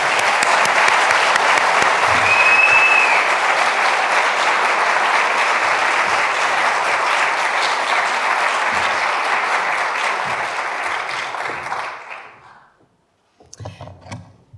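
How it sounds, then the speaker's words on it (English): Warm applause from an audience at a bicentennial opening ceremony in a hall, dense and sustained clapping that gradually tapers off, followed by a brief pause and faint movement. "please join me in giving a warm round of applause for our first selectman, Jamie Stevenson."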